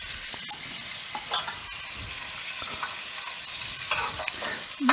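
Sweet and sour spare ribs with vinegar and osmanthus sugar cook down over high heat in a wok, a soft steady sizzle and bubbling with occasional clinks and scrapes of stirring.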